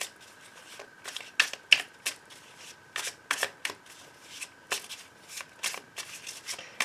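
Tarot cards are shuffled and cut in quiet, uneven bursts of soft papery slaps and riffles, close up, with no talking.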